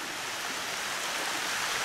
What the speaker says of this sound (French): Et nous voici devant une autre cascade.